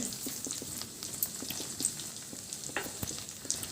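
Sweet chakkara pongali rice being stirred in a pot, a soft, continuous wet scraping and squelching with a faint low hiss and light knocks, fairly quiet and steady throughout.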